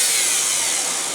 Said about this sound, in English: little bit more dremeling